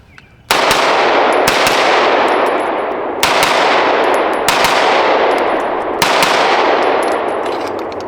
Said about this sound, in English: Let's get some more rounds through this. We're going to use the M1152.